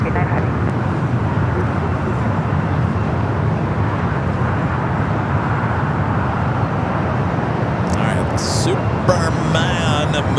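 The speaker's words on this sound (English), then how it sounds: "Superman movie special livery A321 now rolling down at 25 right" An Airbus A321 in special Superman movie livery rolls down runway 25R at LAX for takeoff, a loud continuous jet engine roar that stays steady throughout, with faint clicks and knocks near the end.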